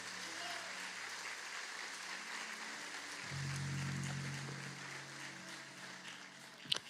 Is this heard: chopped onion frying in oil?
no